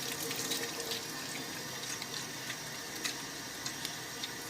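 A honeycomb soap bar with turmeric and activated charcoal is worked into a lather under a running tap, steady faucet water hissing into a sink with faint wet rubbing and small clicks, close and continuous, no talk.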